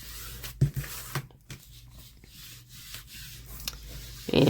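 Rubbing and sanding strokes distress a painted craft piece, a steady low scraping with a few louder scuffs and a rougher burst at the end.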